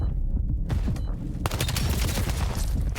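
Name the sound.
gunfire in a video game esports match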